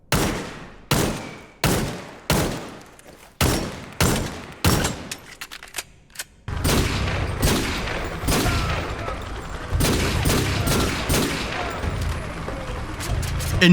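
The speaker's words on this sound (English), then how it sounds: "you can definitely improve on the gun sounds as well" Sharp gunshots from the video game XDefiant fire one by one in a steady rhythm, then give way to continuous rapid automatic gunfire with echoing booms.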